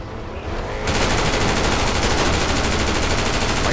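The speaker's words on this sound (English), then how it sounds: "It's time to bring out the AK." AK rifle firing on full auto in GTA 5, a loud, unbroken stream of rapid shots that kicks in just under a second in and keeps hammering to the end, close and dominant with no talk.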